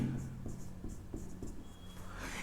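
Chalk tapping and scratching on a board during a physics lesson, with a series of short, faint strokes and taps at irregular intervals over a quiet room background.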